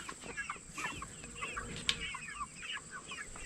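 Several Freedom Ranger chickens clucking and chattering in short, overlapping calls, fairly close, with a steady high-pitched hum in the background.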